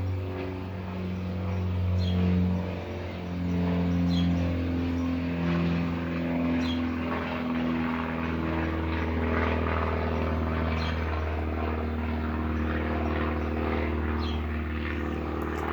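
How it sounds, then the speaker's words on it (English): A big airplane passes overhead, its engines making a loud, steady low drone that holds for the whole stretch without fading. No one speaks. "let's let this big airplane go by"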